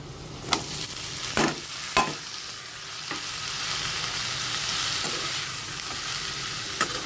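Beans fry in a pan with onion, green chili and turmeric, giving a continuous close sizzle broken by several sharp spatula scrapes and knocks against the pan.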